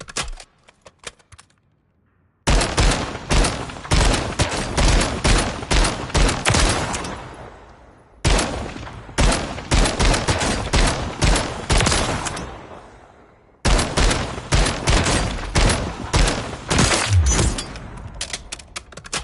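Rapid automatic gunfire from a 45-round-magazine rifle in Call of Duty MW3, loud and close, fired in three long sustained bursts separated by brief pauses.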